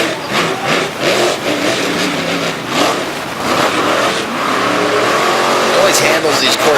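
A monster truck engine revs and roars continuously at a Little Valley, New York event, surging up and down as the truck accelerates, with a commentator's voice running over it.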